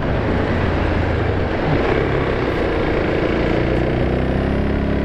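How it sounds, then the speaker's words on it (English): A Suzuki DRZ400SM supermoto motorcycle riding in Singapore, its engine and wind noise a loud, dense, continuous roar heard close up with no pauses. "It's a new bike that I bought second hand. It's a DRZ400SM."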